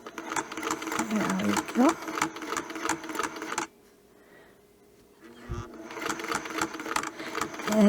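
A sewing machine stitches with a Westalee Spin e Fex ruler, running in fast steady bursts, pausing briefly, then resuming its rapid needle clatter while a person speaks.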